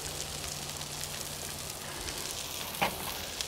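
Vegetables sizzling in oil on a Camp Chef flat top grill, a quiet steady hiss with a brief sharper crackle burst near the end.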